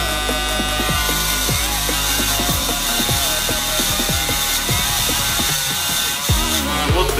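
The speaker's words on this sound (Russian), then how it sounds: "вот эта хрень, которая, собственно, точит ножи" A small electric knife sharpener grinds down a carburetor part, giving a continuous loud whirring drone with repeated rising and falling scraping bursts as the metal is pressed against the wheel.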